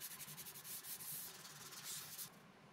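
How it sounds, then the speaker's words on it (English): Wooden china cabinet parts being sanded before assembly, a close, steady rhythmic rasping of back-and-forth strokes that drops off near the end. "Finally, all parts are sanded before the carcass is assembled."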